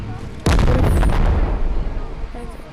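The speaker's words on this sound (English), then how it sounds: "Bombs everywhere." A loud, booming blast from bombs in the VR game Animal Company, a sudden heavy explosion followed by a rumbling, crackling decay with faint background sounds.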